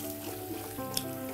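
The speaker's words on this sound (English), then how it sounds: "I'm gonna pan fry the fish." Fish pan-fries during a cooking competition, giving a continuous close sizzle and crackle of hot oil, with a brief sharp clink near the end.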